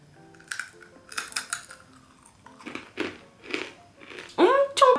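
Crisp crunching of an oil-fried, dried whole shiitake mushroom snack heavily coated in salt, several sharp close bites and chews with a louder burst at the end, with someone talking in between.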